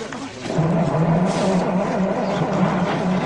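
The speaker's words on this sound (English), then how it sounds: "it sounds to me as if the engine won't start" A car engine cranks with a steady, rumbling whir that keeps turning over without catching, failing to start, continuous and close for several seconds.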